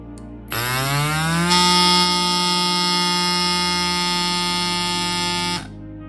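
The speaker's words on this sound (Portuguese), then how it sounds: "perceber qual o barulho que esta bomba faz" A Rockbros portable electric air pump runs alone at close range for about five seconds, a loud steady buzzing whine with a strong constant tone that starts abruptly, rises slightly in pitch, then cuts off.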